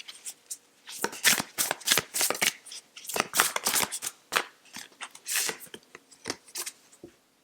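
Tarot cards being shuffled by hand in repeated riffling bursts, close and crisp, with short pauses between flurries and no talking.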